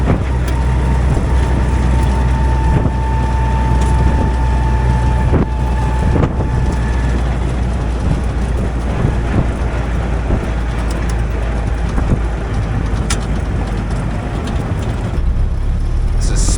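A 1956 Willys CJ5 Jeep with a rebuilt engine drives along backroads, its engine droning steadily under loud wind buffeting the microphone for the whole stretch.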